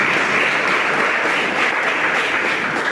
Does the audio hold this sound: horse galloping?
no